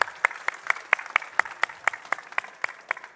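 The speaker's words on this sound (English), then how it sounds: "A warm applause." Scattered, distinct handclaps from an audience at a vehicle world premiere, a sparse rhythmic patter of individual claps rather than a full roar, fairly close and without talk over it.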